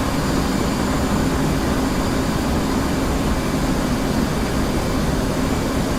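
Continuous jet engine roar from an F-16/F-18 in the DCS World flight simulator as it throttles back out of afterburner: an even, broadband rushing drone that holds steady throughout, with no speech.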